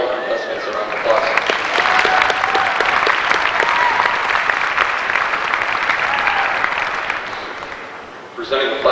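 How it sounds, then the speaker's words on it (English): Sustained audience applause for contestants at a state FFA leadership conference session, dense clapping throughout a large hall with a faint voice heard near the end. "Let's give all these fine contestants a round of applause."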